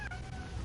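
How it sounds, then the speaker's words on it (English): A pet male cat lets out a single clear, drawn-out meow, close and fairly loud, with no talk over it. "Everyone gets to hear you meow."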